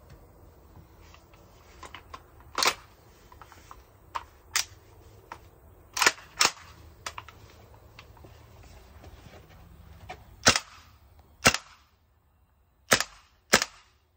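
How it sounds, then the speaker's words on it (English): Wellfire AK-74 gas blowback airsoft rifle with WE gas magazines firing single shots, about a dozen sharp, loud cracks with clacking bolt action, spaced irregularly against quiet background. "This is a Wellfire AK-74, WE gas mags"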